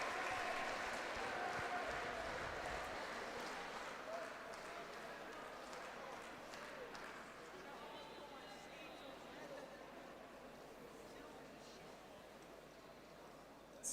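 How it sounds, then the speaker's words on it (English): Crowd applause and cheering for the Western Australia silver medal winners at the 2022 Kurt DeFris Tournament, a sustained, fairly distant wash of clapping and crowd noise that slowly fades, with some voices mixed in. "A loud cheer for Western Australia."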